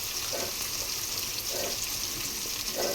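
Tomatoes, carrot and green chili deep-frying in hot oil, a steady broadband sizzle with soft periodic stirring scrapes about once a second, close and continuous with no voices.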